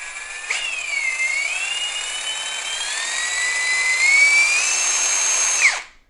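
Ridgid Octane high-torque impact driver spins up close and loud, its high whine wavering in pitch as the trigger speed changes, holding steady for several seconds before cutting off and winding down abruptly.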